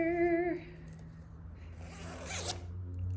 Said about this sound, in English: We have a working zipper.